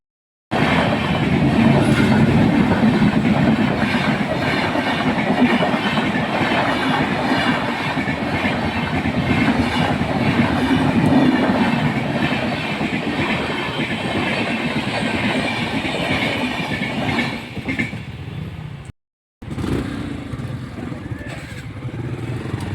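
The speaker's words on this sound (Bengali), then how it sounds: "দেখো গেট পড়ে গেছে, ট্রেন যাবে।" A train rolls past a lowered railway level-crossing gate on the way to a market, a loud continuous rumble with clickety-clack wheel noise lasting about twenty seconds, close by and steady, with a brief dropout near the end.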